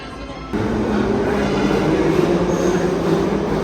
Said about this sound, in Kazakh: Биздин метро келип калды бул жакка.